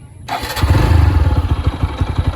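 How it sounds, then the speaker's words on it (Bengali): A TVS Apache RTR 160 4V motorcycle engine catches after a brief crank and settles into a loud, throbbing idle close by. "আমি বাইকটি স্টার্ট দিয়ে আপনাকে দেখাই"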